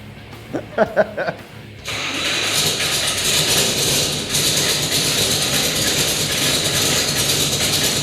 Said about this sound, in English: Next, Cherry Bomb 3-inch header mufflers